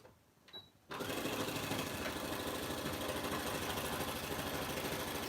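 Sewing machine backstitching along the seam of a fabric oven mitt, a steady, loud mechanical whir with rapid needle chatter starting abruptly after a quiet moment and running continuously to the end.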